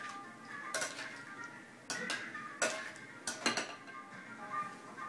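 Chicken being tossed and stirred in a sesame oil marinade in a kitchen, with scattered clinks and knocks of a utensil against a bowl, soft and irregular.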